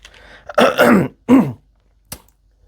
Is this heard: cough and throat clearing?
yes